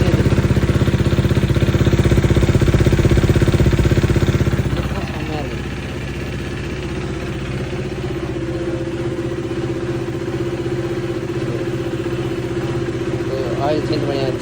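A KTM RC390 motorcycle engine idles after an oil change, a loud, steady mechanical drone close by that settles into a slightly quieter even idle partway through, with someone talking over it.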